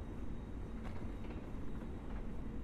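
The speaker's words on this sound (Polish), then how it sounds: "A tu rusza SKM-ka do Otwocka na linii S1" An SKM commuter train departs from Warszawa Zachodnia after dark toward Otwock on line S1, heard as a steady low rumble with faint clicks of wheels and rail, fairly distant and without talk.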